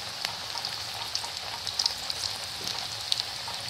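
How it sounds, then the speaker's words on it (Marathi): Methi puris deep fry in hot oil over a medium gas flame, a steady close sizzle with fine crackling pops running throughout. "मीडियम गॅसवरच आपल्याला पुऱ्या तळून घ्यायच्या।"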